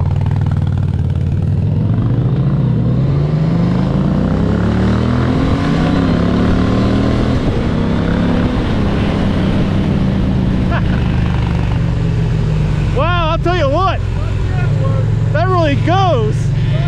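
An Indian Challenger motorcycle cruises on the road, its engine a loud, steady, deep rumble with rising and falling pitch as it accelerates, heard up close and continuous throughout.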